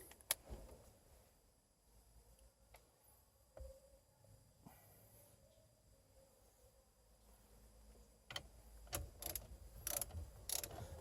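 A ratchet tightens the steering wheel nut on a 2008 Nissan Xterra, quiet mechanical clicks at first building to louder, faster ratcheting near the end, close by and without talk.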